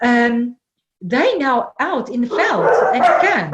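Dogs barking and yipping nearby at a wildlife care camp in the veld, sharp excitable barks and whimpers in bursts after a short pause, with a person talking over them.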